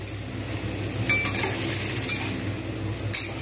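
Paneer cubes frying in hot oil in a kadai, a steady soft sizzle with occasional light clinks of a utensil against the pan.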